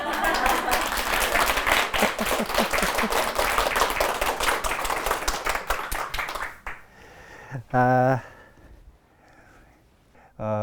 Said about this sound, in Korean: 그러면은 박수 치라고 계속 하는데.